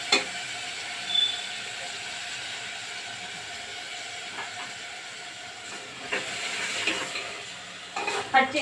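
Raw washed chicken sizzling in plenty of hot oil in a pan, a steady broad frying hiss with occasional stirring scrapes, close and moderately loud.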